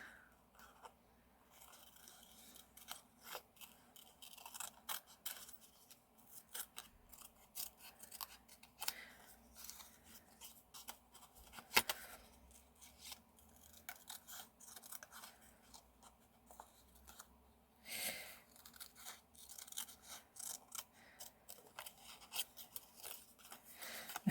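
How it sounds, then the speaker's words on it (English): Scissors cutting out a paper butterfly, with steady snipping and rustling paper over a long stretch, close and quiet with no talking. "So I'm going to cut the butterfly out"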